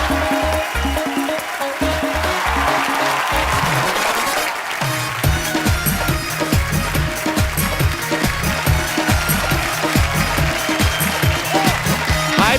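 A studio audience on The Kapil Sharma Show breaks into loud, sustained applause and cheering for an arriving actress, with music playing underneath.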